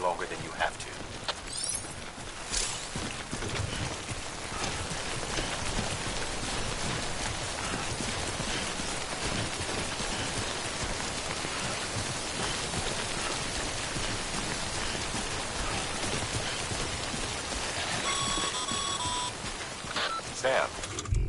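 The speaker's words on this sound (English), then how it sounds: "timefall damages cargo containers. Don't stay out in the rain any longer than you have to." Timefall rain in Death Stranding on PS4 Pro pours steadily and evenly throughout, a constant close patter, with a few electronic beeps near the end and a game voice speaking over it.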